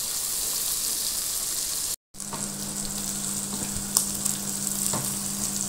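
Dried red chillies frying in oil give a dense, even sizzle, broken by a brief silent gap and then joined by a low hum and a few spoon taps as they are mixed; no speech.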